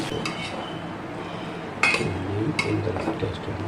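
A metal kadai set back down on a stove clanks and scrapes sharply twice among softer kitchen clinks during preparation of pepper ven pongal.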